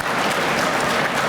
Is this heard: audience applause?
yes